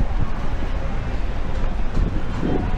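Steady wind rushes and buffets against the microphone outdoors on a bridge in Ho Chi Minh City, a broad continuous roar with low gusty thumps.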